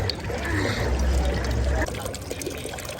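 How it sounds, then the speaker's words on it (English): Water pouring steadily from a free public drinking fountain in Rome, a continuous splashing trickle heard close up with low background rumble and no clear talk. "when you come across one of these free water filling stations, you drink that"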